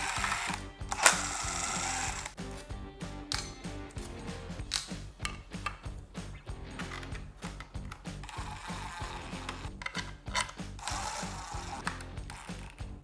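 Screws being driven into a PLA plastic fairing on a Begode Extreme electric unicycle, a steady run of close, rapid ratcheting clicks and mechanical ticks with brief louder bursts, no talking.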